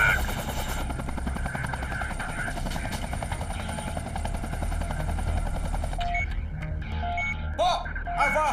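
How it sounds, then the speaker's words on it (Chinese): A naval helicopter flies overhead with a steady, loud rotor drone that fills most of the scene, then thins out as electronic beeps and tones take over near the end. "命令直升机停止对安福二号的跟踪，不能进入索马里领空。"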